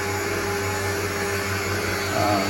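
Electric meat grinder running at a reasonably slow speed while making fresh Italian sausage, a steady, loud motor drone with a low hum, unbroken throughout.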